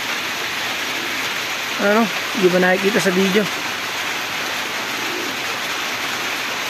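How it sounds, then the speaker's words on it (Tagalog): Heavy rain pours steadily outdoors around pigeons flying in a loft, a constant hiss throughout, with someone speaking briefly over it in the middle. "lumakas na nga lalo yung ulan"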